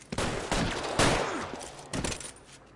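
Several loud gunshots crack out in a police shootout in the video game L.A. Noire, with bursts near the start, at one second and near two seconds, rolling into short echoing tails.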